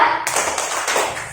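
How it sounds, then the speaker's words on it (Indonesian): Children in a classroom clap the rhythmic 'tepuk santian' pattern, a few sharp, close clap bursts that land at a quick, uneven pace. "Untuk kita semua kasih tepuk santian."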